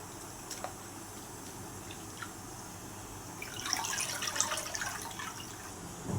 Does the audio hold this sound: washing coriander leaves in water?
yes